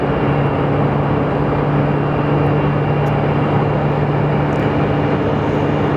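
A plane on approach to land at Phoenix Sky Harbor, a steady broadband roar with a low droning hum that holds even and loud throughout, with no talk.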